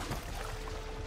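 Water in the video game Horizon Forbidden West rushes and pours continuously, a dense, even wash of liquid sound, moderately loud with no voices.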